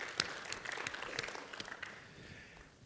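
An audience applauds at an Emanu El and AIPAC event, a broad wash of clapping that starts sharply, holds steady, and fades gradually over about three seconds, heard from a moderate distance.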